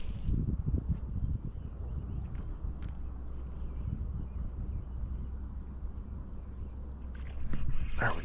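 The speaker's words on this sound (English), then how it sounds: "So I'm gonna actually paddle back up there and make another cast." Gentle water splashes and drips as a kayak is paddled on a river while fishing for smallmouth bass, soft and close, with faint background hiss and a slightly louder splash near the end.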